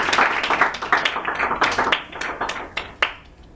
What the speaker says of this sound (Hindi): आए जोरदार तालियां यीशु को